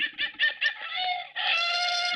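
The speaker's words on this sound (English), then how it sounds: "Yes. That's the rooster." A rooster lets out a series of quick, choppy clucks that build into a sustained, loud, close crow, with a laugh-like quality, heard alone.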